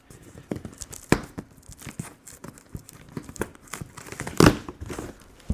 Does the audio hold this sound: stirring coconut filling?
no